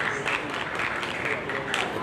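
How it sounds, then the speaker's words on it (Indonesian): Supporters cheer and clap from the stands during a javelin event at the Malaysian national schools athletics meet, a steady wash of crowd noise throughout with small swells rising and falling. "dengan sorakan penyokongnya."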